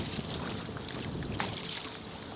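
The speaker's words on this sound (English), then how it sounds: "Big power boat, big stink pot." A big power boat rumbles past on open water with choppy waves near a vintage Folbot Sporty folding kayak, a steady broadband wash and engine drone with wind buffeting the microphone throughout.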